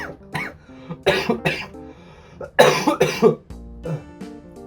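Several harsh coughs from a person with COVID-19 and a lost voice, in short clusters, close up, with quiet pauses between them.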